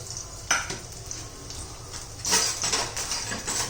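Garlic fries in ghee in a wok with a soft, continuous sizzle, broken by scraping stirs of a spatula and occasional louder clatters, close and moderately loud, without speech.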